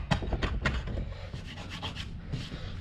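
Old epoxy being sanded off a hot tub skimmer lid, a close, gritty rubbing in quick uneven back-and-forth strokes, moderately loud with no talking.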